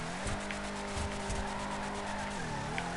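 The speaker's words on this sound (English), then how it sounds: "you can do big drifts, like continuous drifting" A car drifting in Grand Theft Auto 5, its engine droning steadily with a long sustained tire squeal that rises and dips through a continuous slide, loud and alone.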